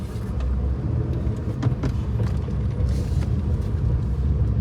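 A new Maruti Suzuki Alto with about 12,000 km on it and a slightly hard gearbox drones along while driving, a steady low engine rumble with faint clicks and rattles over it, no voices.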